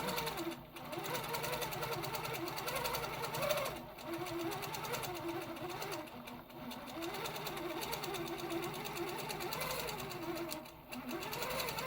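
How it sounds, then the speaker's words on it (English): A sewing machine stitches a quilt with an echo quilting foot, running in a steady, fast mechanical hum with rhythmic needle clatter. It pauses briefly a few times, and the sound is close and continuous. "I'm just going to watch as I'm stitching and use the edge of the foot to maintain that 1/2 inch all the way around."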